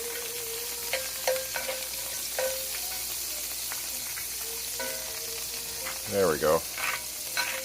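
A margarine-like spread melts in a hot pan with a soft, steady sizzle and frying crackle, close but fairly quiet, with a few clinks and stirring sounds and someone speaking briefly.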